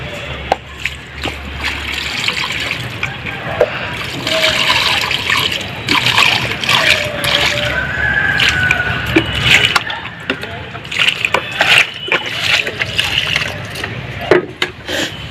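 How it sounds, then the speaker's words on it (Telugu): Water poured into a tub of cocopeat, a steady trickling and splashing flow running throughout with some sloshing, close by, with a voice talking over it. "దీనికి ఇగో నీళ్ళు వేస్తున్నాను మళ్ళా."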